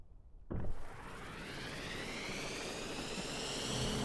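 A helicopter in a video game spools up abruptly after a quiet start, its loud turbine whine and rotor roar rising steadily and holding on, with no talk over it.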